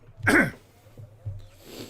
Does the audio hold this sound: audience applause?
no